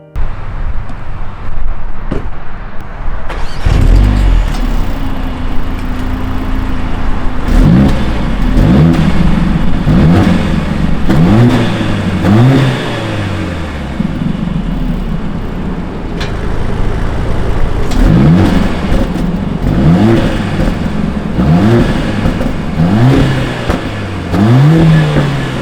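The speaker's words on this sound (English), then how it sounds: "I'm gonna start the A45 S in comfort mode so you can hear the exhaust sound in the comfort mode" Mercedes-AMG A45 S four-cylinder turbo engine in comfort mode, heard idling and then revved repeatedly through its exhaust, with loud rising-and-falling revving bursts in two clusters and no talking.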